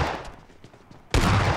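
Gunfire in the zombie mode of the battle game PUBG: a quiet stretch of faint pops, then a sudden loud, dense burst of shots that continues to the end.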